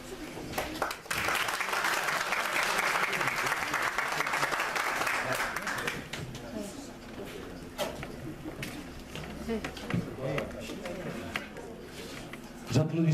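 Audience applause at a training-course closing ceremony in Batna, loud and dense for about six seconds, then thinning into scattered claps as talk and murmuring resume in the room.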